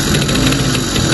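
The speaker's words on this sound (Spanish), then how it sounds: "Como podemos ver, aquí el motor ya está encendido" Small gasoline engine of a motorized bicycle idling steadily, a continuous mid-pitched chugging drone with slight knocking vibration, close and loud throughout with no voices.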